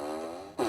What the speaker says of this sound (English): Oh, is the fart machine here?